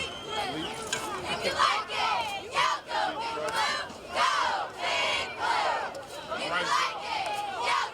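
A loud, steady crowd at a high school football game between Colfax and Capital Christian, with cheerleaders rooting and fans yelling in repeated surges of cheering and chanting across the whole stretch.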